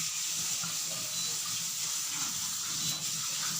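Hot water pours steadily from a tap or kettle into a batter mixture for homemade rava idli, a continuous close hissing splash with no break.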